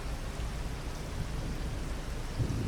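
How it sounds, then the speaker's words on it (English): Steady rain falls in a farming video game, a continuous even hiss of noise with a low rumble underneath, unbroken for the whole short stretch and with no talk. "I was gonna say then we're gonna wait until it stops raining"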